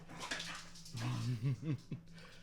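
A dog whines in a series of rising, pitched whimpers with a short yelp, eager for an object to be thrown, fairly close and moderately loud, with faint voices in the background.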